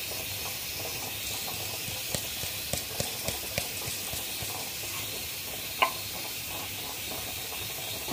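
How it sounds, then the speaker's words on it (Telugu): Mustard seeds and cumin frying in hot oil for a tempering, a dense steady hiss of sizzling with faint scattered pops and ticks throughout, close and continuous with no talking. "ఆవాలు జీలకర్ర వేయించాలి."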